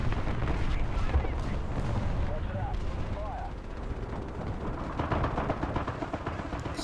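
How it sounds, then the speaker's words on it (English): Artillery strikes thud and rumble continuously in War Thunder around a Soviet T-34 (1940) medium tank, a dense barrage of booms and blasts with a voice talking over it. "Let's take some artillery. Start dropping some of that."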